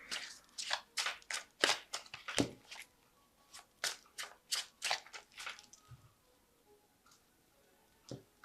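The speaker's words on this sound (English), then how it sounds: "So I'm just going to shuffle this deck." Quick bursts of crisp riffling as a tarot deck is shuffled come in close repeated runs, then trail off into a few faint taps.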